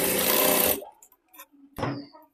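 A sewing machine stitches a strip onto a simple blouse with four tucks and full sleeves. A loud, dense burst of machine running stops after under a second, followed by faint clicks and a brief second rumble.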